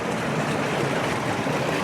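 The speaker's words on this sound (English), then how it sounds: "the creek's ripping right beside me here" Fast-flowing creek rushing over bedrock close by, a steady loud roar of water with no break.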